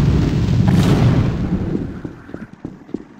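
A grenade goes off in the Half-Life: Source game: one loud, close blast with a long rumbling decay that fades out, followed by a few scattered sharp knocks.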